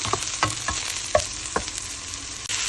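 Ginger, garlic and onion sauté in a pan, with a steady close sizzle broken by several scraping knocks of a spoon stirring, and no talk.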